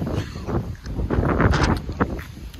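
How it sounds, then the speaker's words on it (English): Gusty wind buffets the microphone in uneven rumbling bursts, with faint scattered knocks in the background and no talking. "Very windy."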